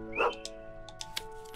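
A dog in the farming adventure video game Potion Permit gives a short bark, followed by soft game chimes and interface blips over steady background music.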